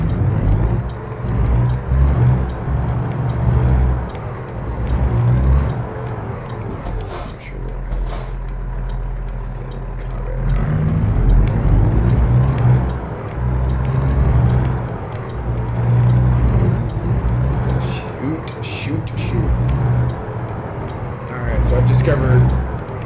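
Truck in American Truck Simulator driving an Arizona highway on a railroad company delivery, a heavy low engine rumble with shifting revs and brief air-brake hisses, loud and close, with someone talking over it.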